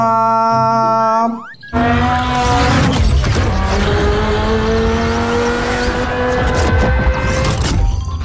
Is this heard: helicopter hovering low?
no